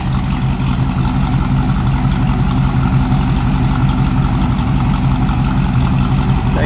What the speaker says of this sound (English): Come around to the back, you can hear it run. Nice little rumble to it.